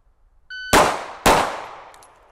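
Two sharp pistol shots strike steel head targets about half a second apart, each a loud crack with a ringing metallic clang that decays, after a faint steady tone at the start.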